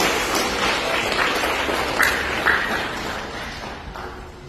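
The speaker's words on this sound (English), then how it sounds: "Let's give her a big round of applause for Ms." Sustained applause from a large gathering at a ceremony honouring someone speaker, a broad steady wash of clapping with a few sharper claps standing out, slowly easing off.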